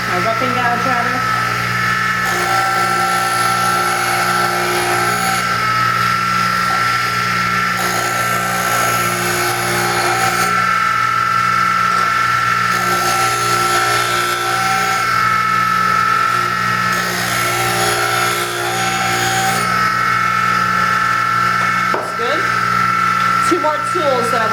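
A wood lathe spins while a roughing gouge turns an ambrosia wood tool handle, giving a loud, steady, continuous droning whine that holds without break throughout.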